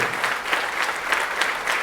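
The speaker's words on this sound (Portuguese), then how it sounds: "Pode dar uma salva de palmas ao Senhor Jesus, porque Ele merece" A church congregation gives a round of applause for Jesus, a brisk, even patter of many hands clapping together for a couple of seconds.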